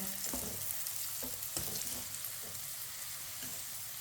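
Semolina roasting in a pan for suji halwa gives a steady, close frying sizzle throughout, with a few soft stirring knocks and scrapes and no talking.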